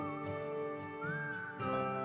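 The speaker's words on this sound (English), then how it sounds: "Is that whistling?" A gliding whistled melody runs through a soft musical backing, clear and sustained, with no voices.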